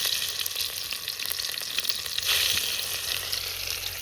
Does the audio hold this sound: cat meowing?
no